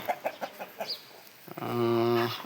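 A few short clucks come first, then a longer, drawn-out rooster call on a farm, fairly close and moderately loud.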